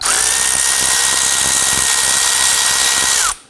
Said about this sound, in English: Let's loosen the bolts here.